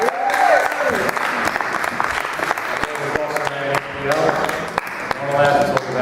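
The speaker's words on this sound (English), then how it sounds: "Keep your round of applause going" Audience applause at a cricket show, steady clapping from a crowd throughout, loud and sustained.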